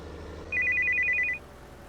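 A telephone rings inside the Farming Simulator 19 video game, a single burst of rapid electronic trilling that is loud and clear over a quiet background, with no talk.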